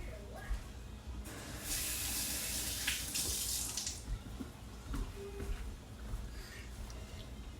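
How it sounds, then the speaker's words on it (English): A kitchen faucet runs as a hand is rinsed under it, a steady hissing splash lasting a few seconds before the water shuts off, followed by soft clatter and quiet talk. "Let me rinse my hand off."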